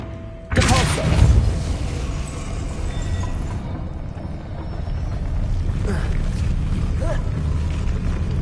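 A Depulso force spell fires in Hogwarts Legacy with a sudden heavy thump and rumbling burst, followed by lingering clatter and low ambient rumble, with a couple of fainter knocks later on.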